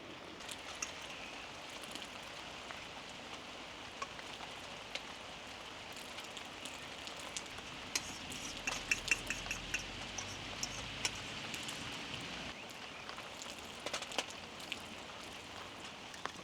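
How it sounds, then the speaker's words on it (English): Light rain patters steadily at a campsite, a soft continuous hiss of drops with a few sharper taps on nearby surfaces, quiet and even throughout with no voices. "I think the rain has just started again"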